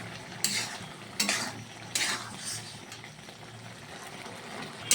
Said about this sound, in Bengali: এবারে সুন্দর করে নাড়াচাড়া করে নেবো